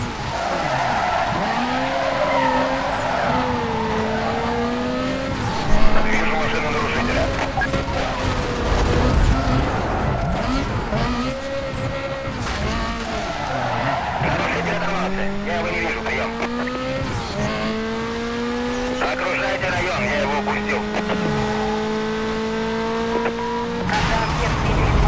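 In Need for Speed Most Wanted, a car engine revs hard through rising and falling pitch sweeps while tyres squeal and skid almost continuously, with someone talking over the game sound.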